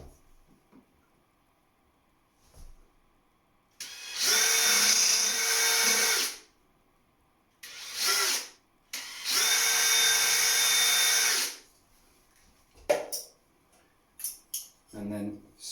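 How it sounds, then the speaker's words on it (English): Power drill boring pilot holes for a venetian blind bracket, two loud sustained bursts of whirring separated by short pauses, then a brief spin and some handling clatter. "Pilot drill."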